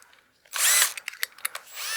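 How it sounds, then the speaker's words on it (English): A cordless drill spins a barrel trimmer against a pen blank, giving a sharp, bright burst of high-speed cutting and whirring, followed by a few short clicks and a renewed whine starting up, close and fairly loud. "we'll mount this just in a cordless drill"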